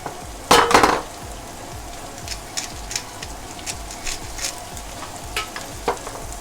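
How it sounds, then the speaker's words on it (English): Green beans sauté in a pan for Filipino pancit bihon noodles: a steady low sizzle, a loud clatter of utensil on pan near the start, then light, intermittent stirring scrapes. "You can now add the green beans, saute for just 1 minute."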